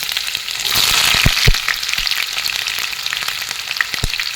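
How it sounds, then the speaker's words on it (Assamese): Loud, steady sizzling of onions frying in hot oil in a kadai, with occasional scraping stirs and pops near the microphone. "অলৰেডি কেৰাহীত মই তেল গৰম হ'বলৈ দিছোঁ। তেলখিনিও গৰম হৈছে। ইয়াতে এতিয়া পিঁয়াজখিনি দি দিছোঁ"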